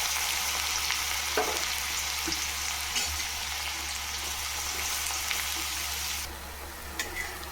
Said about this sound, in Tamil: வெங்காயம் சேர்த்து வதக்கிக்கலாம்.